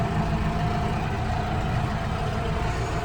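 A tractor engine pulling a loaded hay trailer drones steadily at low pitch, a loud continuous rumble with no breaks or changes in speed.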